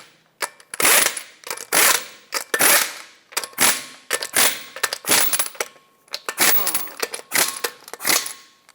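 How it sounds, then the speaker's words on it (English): A torque wrench ratchets on the lug nuts of a Mazda 6 wheel, giving repeated sharp clicking bursts in an uneven rhythm of about a dozen pulls, close and loud with short pauses between. "Put on all 5 of your lug nuts, bottom them out in a cross pattern"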